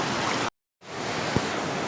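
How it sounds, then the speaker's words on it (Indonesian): Fast-flowing river current at Bedeng Aek Songsongan in Asahan, a steady broadband rush of water that drops out briefly and then resumes, with no voices. "ini kelihatan juga derasnya nih, arus deras yang ada di Bedeng ini"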